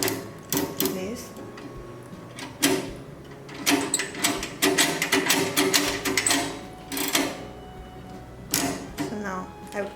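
A PVC credit card embossing machine at work, giving a run of sharp clacking strikes in uneven bursts, close and fairly loud, with a voice talking over parts of it.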